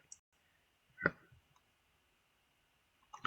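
A computer mouse gives a few sharp, isolated clicks at close range, roughly two seconds apart, in an otherwise quiet room.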